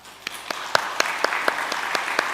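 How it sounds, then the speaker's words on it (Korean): Church congregation applauding to welcome a newlywed couple during a Sunday service, steady clapping from many hands filling the room with a few sharper individual claps standing out. "잠시 자리에서 일어나 주시면 박수로 환영하도록 하겠습니다"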